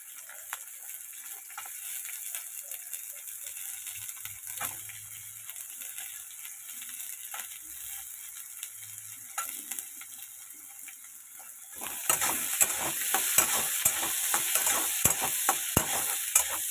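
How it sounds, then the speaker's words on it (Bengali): Potato pieces for a banana flower dish fry in a pan with a constant crackling sizzle and scraping stirs, growing louder and busier toward the end, with no one talking. "এবার ওই মোচার আলুগুলো একটু ভেজে নিচ্ছি।"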